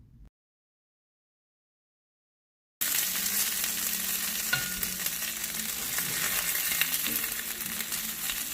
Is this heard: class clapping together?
no